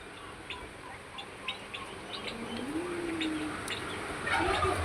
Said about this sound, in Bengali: দেখেন কত এখানে মুরগি আছে